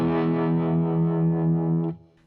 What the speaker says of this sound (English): I've got a little bit of distortion on my guitar tone and also tremolo